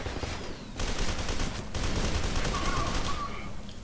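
Enemy gunfire in the shooter game Fear 2, a dense burst of shots that fills the whole clip, with a brief gap just before the middle, carrying on loud and continuous with no voice over it.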